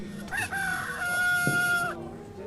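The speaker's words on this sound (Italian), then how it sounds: "In verità vi dico, Pietro, prima che il gallo canti." A rooster crows once, a loud, close cock-a-doodle-doo with a drawn-out middle and a clipped ending, followed by near quiet.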